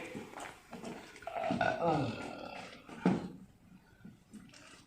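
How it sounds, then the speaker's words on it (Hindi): Actor on a Hindi sitcom set faking a burp, a few throaty, drawn-out belching sounds at close range, quiet overall, with a bit of background talk. "थोड़ा थोड़ा डकार बना लेते हैं"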